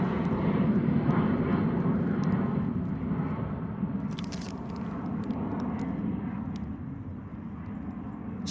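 A heavily loaded Ryanair airliner takes off at Bristol Airport in a crosswind, its jet engines a broad, steady roar that fades slowly as it climbs, with faint clicks nearby.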